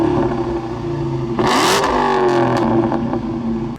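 A 2015 Dodge Challenger SRT Hellcat fires up with a loud burst, then settles into a heavy, steady idle with a brief blip of revving, close and alone with no talk.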